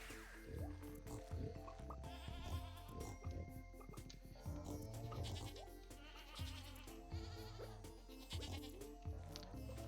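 A goat in the farming game Stardew Valley bleats again and again in short, wavering cries, mixed with soft clicks and game sounds, at a quiet level throughout.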